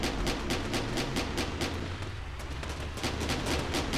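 Cannon fire in the vehicle-combat game Scraps pounds in a rapid, steady barrage of loud booming shots, continuous and dense with a low rumble beneath, without any talk.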